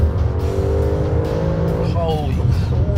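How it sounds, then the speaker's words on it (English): Audi RS four-wheel-drive car launching hard, its engine note climbing quickly through a gear change with a rising, rasping roar, loud and close from inside the cabin. "Four-wheel drive just slams it off the line"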